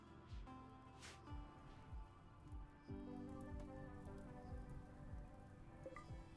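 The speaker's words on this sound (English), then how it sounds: "Torrential rain." Torrential rain pours in an icy survival video game, a steady wash of drops pattering on surfaces throughout, close and continuous with small splashy bursts and faint background game tones.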